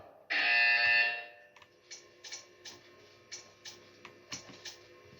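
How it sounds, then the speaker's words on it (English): A loud electronic buzzer from the video game Portal 2 blares for about a second, followed by a series of soft, evenly spaced ticking clicks. "You will hear a buzzer."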